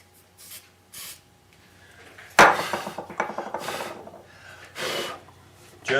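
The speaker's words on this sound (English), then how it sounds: "And then I will often spritz it with the accelerator." A short hiss of glue accelerator spray spritzed onto a fiddle part during setup work, a single close burst followed by faint rubbing and handling sounds.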